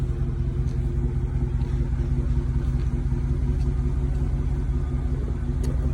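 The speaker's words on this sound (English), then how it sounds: "Mid-muffler delete, y'all gonna hear the sound, the differences of the sound." A car with a mid-muffler delete idles in a low, steady rumble from its exhaust, even and close, with no voices over it.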